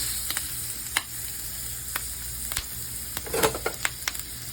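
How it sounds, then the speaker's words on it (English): Ground beef browning in about a tablespoon of olive oil in a hot skillet, a faint steady sizzle under a low hum, with a few sharp spatula clicks and a brief burst of crackle near the end. "And then you want to brown your ground beef"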